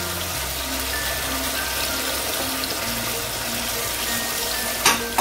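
Tomato paste fries with spices in hot oil, giving a continuous close sizzle with a low steady hum beneath it. A brief clatter sounds near the end, and no one speaks.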